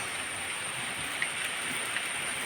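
Steady, even rain hisses continuously at moderate volume, a dense wash of drops with no voices over it.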